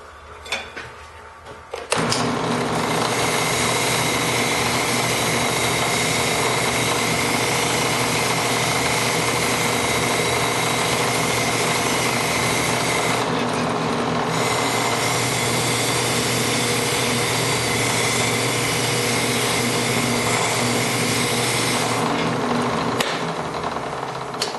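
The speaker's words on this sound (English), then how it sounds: "I have it set up with a wire wheel, and I'm going to show you how good this is at cleaning the inside of angle iron" A drill press fitted with a wire wheel scrubs rust and grime from the inside of steel angle iron, a loud steady whirring grind that runs continuously after a brief quieter start, with no talk.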